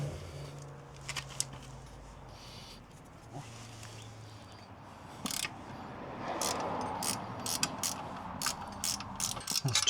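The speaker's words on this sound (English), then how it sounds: "we'll need another ratchet spanner" A ratchet spanner loosens a bolt on a Royal Enfield Himalayan 411 bash plate, its clicking bursts rising toward the end, with some handling clatter and no talk.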